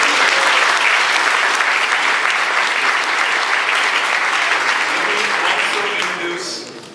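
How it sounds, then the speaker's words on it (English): An audience breaks into loud, dense applause that holds steady for several seconds, then thins and fades near the end. "So, Leon, please give a round of applause."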